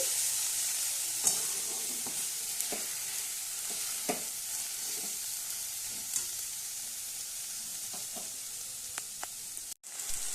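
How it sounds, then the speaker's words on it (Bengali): Leafy greens cooked with sesame paste sizzle gently in a pan while a spoon stirs them, adding occasional soft scrapes and taps over a constant low hiss. "যেহেতু এটা তিল তাই একটু নাড়াচাড়া করে নিতে হবে"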